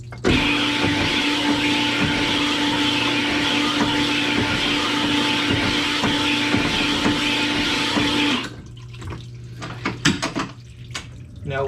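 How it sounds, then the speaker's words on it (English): A power hone spins inside a two-stroke engine cylinder, producing a loud, steady whirring grind with a sustained tone for about eight seconds. It then cuts off, leaving scattered metallic clinks and handling noises. "So when you are honing a cylinder,"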